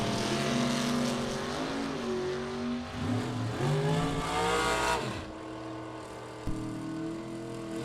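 Drag racing cars, a Chevy II and a hard-launching Z28 Chevrolet Camaro, at a bracket nationals event: loud engines roar and rev with rising, shifting pitch, then fade, with a sharp bang near the end.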